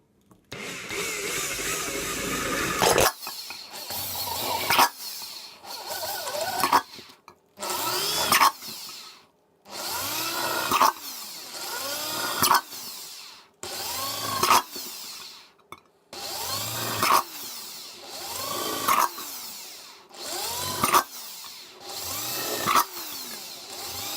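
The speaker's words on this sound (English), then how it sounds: "I'm also going to drill a load of random holes in the bottom to let the air flow through." A power drill bores a series of holes in the metal bottom of a homemade woodgas stove. Loud whining bursts of a few seconds each repeat about ten times with short pauses between them.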